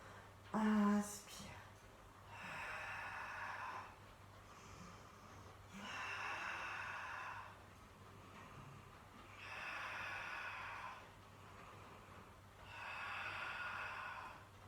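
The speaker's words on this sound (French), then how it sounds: "Et vous allez faire souffle, inspire, souffle, inspire." Slow, deliberate Pilates breathing during a beginner session, with four long airy exhales alternating with quieter inhales in a steady rhythm, preceded by a brief snort-like breath near the start.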